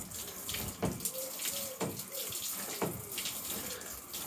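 Water splashes and runs over a car body panel coated with Rupes Uno Advanced polish, a close, continuous trickling with several sharper spurts at regular intervals.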